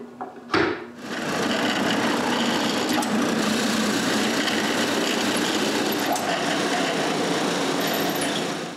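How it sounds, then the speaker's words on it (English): A power drill bores pilot holes into a wooden cremation urn, running as one steady, loud whirring drone for most of the clip after a short knock at the start, with no talking. "After marking where the pilot holes should be, I drill them."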